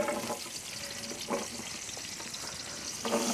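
Small onions fry in a pan over a wood fire outdoors, giving a soft, steady sizzle with occasional scrapes of stirring. No one speaks.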